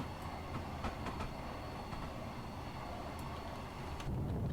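A Class 444 electric train on the Portsmouth Direct Line in Train Simulator Classic runs steadily with a continuous rumble and faint rail clicks, heard alone without talk.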